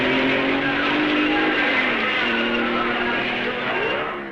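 A 1955 Belgian Grand Prix race car pulls out of the pits with a loud, continuous engine howl that rises and shifts in pitch, fading slightly toward the end under faint commentary.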